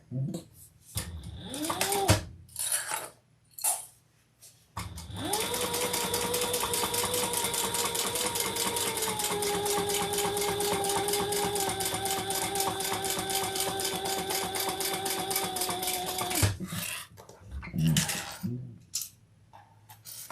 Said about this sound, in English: let's sew this down